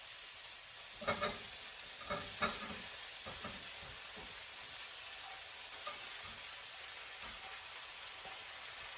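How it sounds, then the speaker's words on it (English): Boiled, mashed potatoes go into a pan of sautéed, lightly golden onion: a few soft spoon scrapes and thuds early on over a faint, steady sizzle, quiet and close, with no talking. "Now I'm going to add the boiled and mashed potatoes."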